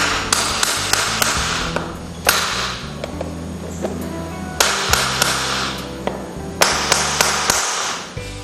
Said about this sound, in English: So as you're nailing, you're bringing your hand out a bit and it's actually rolling these nails over.